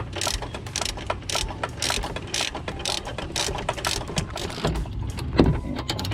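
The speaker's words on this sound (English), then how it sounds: "Take this big old extendo ratchet with the 1/2-inch socket. Tighten that back down." An extendo ratchet with a 1/2-inch socket tightens a horn bolt on a 2011 Ford Fusion, giving a steady run of rapid clicks up close with no talking.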